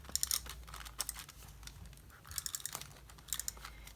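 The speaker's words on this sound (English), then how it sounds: "maybe I'll just tape this down first" Paper being taped down in a junk journal, with short crisp crinkling and tearing bursts in several clusters, close and fairly quiet, no talking.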